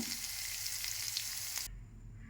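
Soft sizzling of nalleru (veld grape) stems cooking in a pan with light stirring, which cuts off abruptly near the end.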